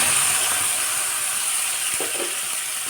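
Ginger, tomato and green chili paste frying in hot oil, a steady close sizzle and hiss with a couple of soft stirring scrapes near the end.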